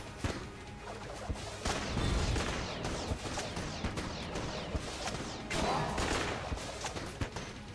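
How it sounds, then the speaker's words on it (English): Rapid volleys of gunfire and hard ricochet impacts fill dense video game combat in Enter the Gungeon, with shots bouncing off a wall, loud and continuous, with sharp bursts and crashes throughout. "We just kind of bounce the shots off of the wall."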